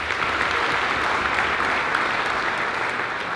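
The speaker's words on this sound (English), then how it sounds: "I'd like to give Tex a round of applause for live streaming our event tonight" An audience at a high school concert in East Islip claps steadily and densely from start to finish, a close, full round of applause with no voices over it.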